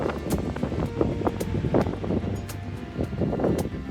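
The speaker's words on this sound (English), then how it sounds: "Getting windier as we go up." Wind gusting steadily across an exposed winter mountain trail on the climb to Jennings Peak, a continuous rushing roar with buffeting on the microphone and no voices.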